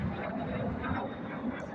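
Patriots Jet Team jets roar overhead during an airshow demonstration at MCAS Yuma in 2025, a steady, loud, broadband engine rush sustained throughout without a break.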